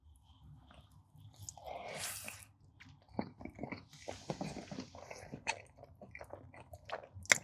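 Close, wet chewing and crunchy bites of caramel peanut butter cheesecake topped with Butterfinger and Reese's peanut butter cup pieces, irregular mouth sounds with occasional sharp clicks, no talking.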